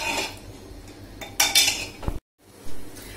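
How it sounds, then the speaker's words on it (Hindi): A spoon clanks and scrapes inside a pot while mutton with onions and a little water is mixed, several metallic knocks in quick bursts followed by a brief pause and one more stir. "इसे हम अच्छे से मिक्स करेंगे।"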